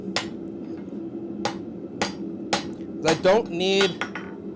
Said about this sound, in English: Once in a while, I'm going to come in on the edge of the anvil